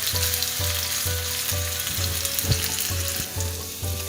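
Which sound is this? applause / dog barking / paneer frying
paneer frying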